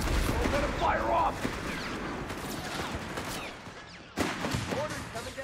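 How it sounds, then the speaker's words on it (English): Mortar fire and battle noise from Company of Heroes 3: a dense mix of distant booms and gunfire, with a sharp, louder blast near the end and game voices talking over it. "Mortar coming down the pipe."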